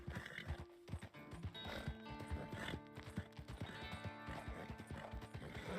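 Horse hooves in the video game Red Dead Online clop steadily over open land in a fast, continuous rhythm, with a brief whinny and layered game ambience underneath.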